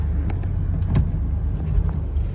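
A Ford Bronco with Chicago road salt on it, parked for about a month, pulls away on a city block; its steady low engine rumble runs close and continuous, with a few faint clicks and rattles above it.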